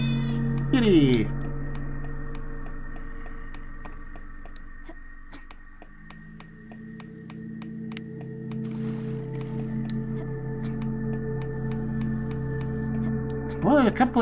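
Cat meows in the video game Sucker For Love: two short rising-falling meows, one near the start and one at the very end, over a steady droning game soundtrack.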